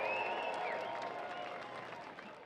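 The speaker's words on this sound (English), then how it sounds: "Come on, Knoxville, how about a round of applause for Ricky Thornton Jr." A raceway grandstand crowd applauds a late model race winner at Knoxville, a brief dense clapping wash heard from a distance with a whistle over it, slowly fading.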